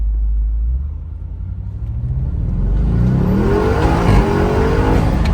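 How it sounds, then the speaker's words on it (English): An Audi S6 engine, a stock car with traction control switched off, revs hard and climbs in pitch, loud and close, with a steady roaring rumble and rising whine. "good pops and crackles for a stock car"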